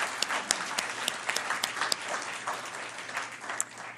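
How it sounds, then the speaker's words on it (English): An audience applauds panelists at an Asian and South Asian Heritage Month event, a steady wash of many hands clapping with a few sharper nearby claps popping out over about four seconds. "Once again, a big hand of applause to our panelists."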